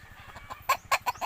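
Chickens cluck in a short burst of several quick, close calls over a low rhythmic background, with no talking.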